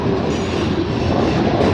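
A CN manifest freight train rolls past close by, with a loud continuous roar of wheels on rails and a steady rumble of cars going by.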